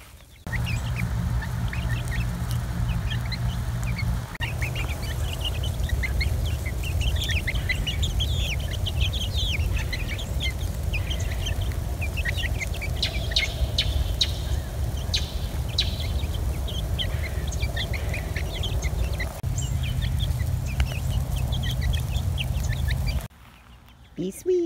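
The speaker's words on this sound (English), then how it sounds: "Show your chickies. Where are your chickies at? There they are." Baby chicks peep in a busy high-pitched chorus that runs throughout, close by and steady, over a low background rumble, with occasional handling noise.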